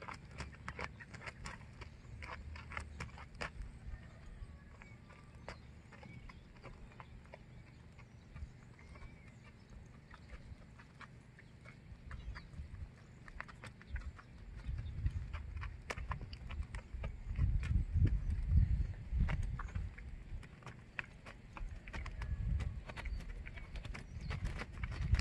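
A horse stepping backward up and down a hill, with irregular hoof clops and thuds that grow heavier and louder midway, against a quiet outdoor background.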